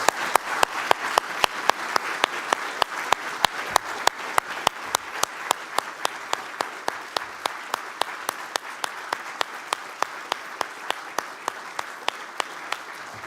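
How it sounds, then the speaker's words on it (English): A standing room at an innovation awards ceremony gives a long, steady round of applause, sustained and fairly loud throughout with sharp, evenly spaced claps standing out from the crowd wash, no talking over it. "heartfelt round of applause"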